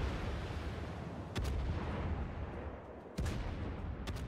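Warship main guns firing in World of Warships during a King of the Sea tournament match, heavy booming salvos heard as a couple of sharp blasts over a constant dense rumble of battle noise.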